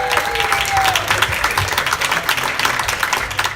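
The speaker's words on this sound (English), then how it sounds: "let's give Al a nice big round of applause" Guests at a retirement party give a hearty round of applause, many hands clapping rapidly and steadily for several seconds, with a few murmuring voices in the crowd.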